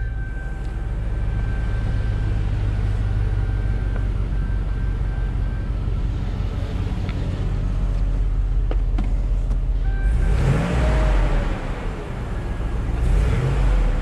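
A car engine idles and runs steadily through its exhaust, a continuous low rumble that builds into a louder revving surge with shifting pitch toward the end.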